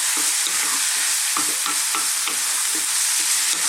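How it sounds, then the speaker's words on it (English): Tomatoes being stirred into vegetables frying over high heat for a vegan stuffed bell pepper filling, with a steady sizzle and repeated close scraping strokes of the spoon through the pan. "And let's just keep this on a high heat. Keep stirring it."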